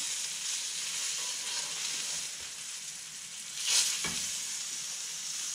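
Mackerel fillets sizzling steadily in a hot pan, a constant close frying hiss with a brief louder spit or crackle near the end, no voices.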